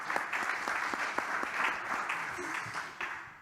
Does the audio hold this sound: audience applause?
yes